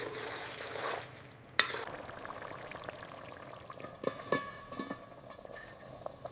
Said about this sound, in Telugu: చింతపండు గుజ్జు, మరియు నీరు వేసి రుచికి తగినంత ఉప్పు వేసి బాగా కలపండి.